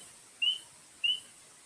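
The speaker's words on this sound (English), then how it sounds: "Spring peepers may be small, but they are loud." Two short, high peeps from spring peeper frogs, spaced about half a second apart, clear and fairly close over quiet background hiss.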